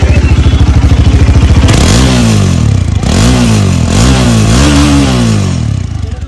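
A Bajaj Dominar motorcycle on its stock exhaust, with the catalytic converter and muffler not yet fitted, idles with a loud, rapid thump, then revs up sharply several times in quick blips, close by.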